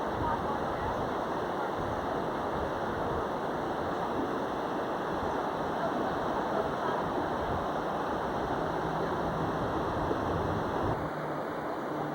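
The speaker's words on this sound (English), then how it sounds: "We hear the roar of the river at the bottom of the Royal Gorge." Steady, loud white-water river roaring at the bottom of the Royal Gorge in Colorado, a continuous broadband rush filling the whole clip with no breaks.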